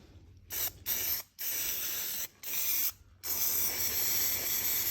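An aerosol can of primer hisses in five separate bursts, the last one held longest, as it sprays the chassis rail of a 1969 Ford Falcon XW sedan under repair.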